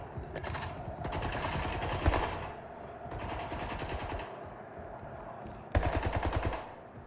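Rapid automatic gunfire in an online multiplayer shooter game, sustained bursts of shots with brief gaps and a sharp final volley, loud and close with no talk over it.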